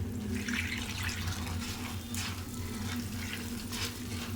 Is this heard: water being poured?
yes